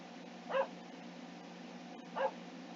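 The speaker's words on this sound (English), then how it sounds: "You could probably hear the dog in the background barking." A dog barks twice far off, faint and spaced well apart, against a low steady background hum.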